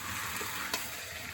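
Jackfruit and potato are stirred in a pan of frying goat fat, giving a steady, close hiss of sizzling oil with one faint clink of the spoon.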